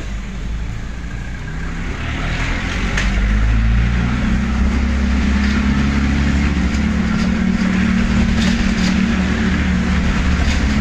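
A motor tricycle travels along Ambiong Road, its engine a loud, steady drone with road rumble that holds for the whole stretch, with no talking.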